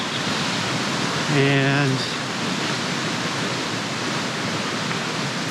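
A fast-flowing river on a Tour du Mont Blanc hiking trail gives a broad, constant rushing roar, close and loud throughout, with a brief spoken word over it.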